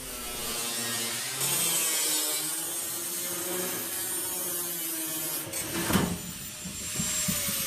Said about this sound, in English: I used large and small grinders to cut the hole.